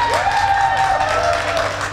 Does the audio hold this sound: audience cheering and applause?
yes